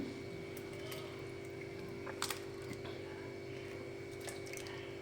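A large batch of fresh homemade butter is scooped out of the water in a pot, making faint wet squishes and drips over a steady background hum.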